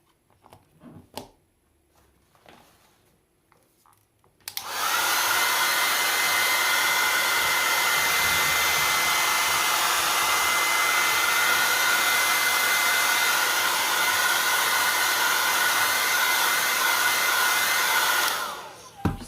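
A hair dryer switches on after a few quiet taps and blows loudly and steadily for about fourteen seconds drying rice paper, then cuts off abruptly.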